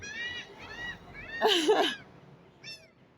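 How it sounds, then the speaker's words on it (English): Seagulls call in a series of close, strident cries, with one louder squawking burst in the middle and a shorter call near the end, heard outdoors. "Even the seagulls is singing."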